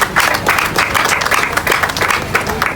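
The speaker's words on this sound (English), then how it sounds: "Please give yourself a round of applause." A small group applauding on request at a morning gathering for a land estate tour, with steady, moderately loud clapping that runs throughout and carries a few voices mixed in.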